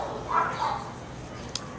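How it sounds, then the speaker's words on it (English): Dachshund barking, two short high yips in quick succession at moderate distance, over a steady background noise, followed by a brief sharp click. "look at this perfect specimen of a dachshund"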